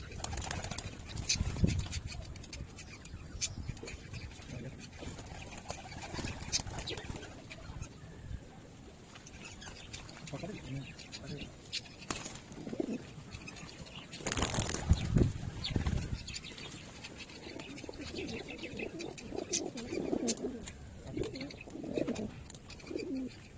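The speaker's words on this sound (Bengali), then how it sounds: "খাঁচার মধ্যে পায়রা আছে এখানে আমার সব পায়রাগুলো ছাড়া আছে" Caged pigeons coo softly and intermittently, with occasional bursts of wing flapping and fluttering, heard nearby at a low level amid faint background noise.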